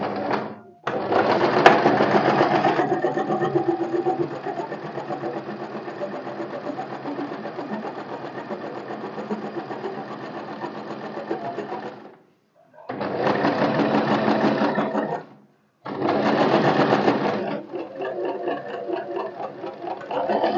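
Sewing machine stitching along a chalked line to join the neckline and lining of a four-tuck blouse, running in long steady stretches with two brief pauses, close and alone.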